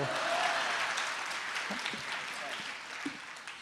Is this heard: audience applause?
yes